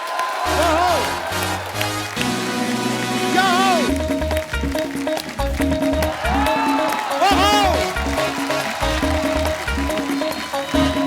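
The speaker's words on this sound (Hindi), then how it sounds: "आप सबकी जोरदार तालियों के बीच स्वागत करना चाहूंगा" Studio audience applause on a comedy talk show welcomes actor Jeetendra and producer Ekta Kapoor, a loud, sustained wash of clapping running the whole time under upbeat band music.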